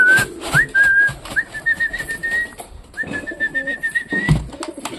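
Pet pigeons kept at home coo in repeated throaty phrases, close and clear, with a thin whistling tone running alongside and a few soft bumps.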